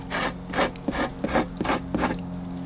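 A waterlogged plywood cone is pulled up off concrete, making a series of rough, close wooden scraping and rasping bursts in an irregular rhythm.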